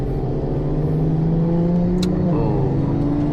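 A race car with no exhaust fitted revs hard on Sepang International Circuit, a loud continuous engine drone heard from the passenger seat, its pitch climbing and then shifting near the end.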